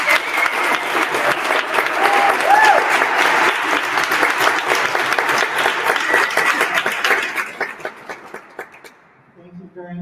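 An audience at a public event breaks into sustained, dense applause welcoming two state legislators. The clapping holds steady for about eight seconds, then thins out and fades as a voice begins near the end.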